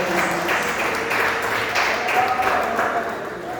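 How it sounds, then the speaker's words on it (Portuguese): A church congregation claps during a Pentecost campaign service, a busy mix of hand claps in the room with voices mingled underneath. "louve ao Senhor com a salva de palmas"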